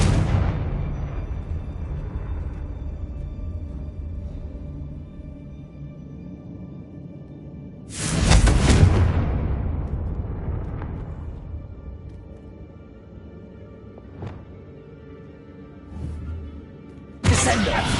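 A Confringo blasting spell from Hogwarts Legacy erupts in a loud, deep explosion with a rushing burst that slowly decays, followed later by another sudden blast, amid steady low game ambience and no speech.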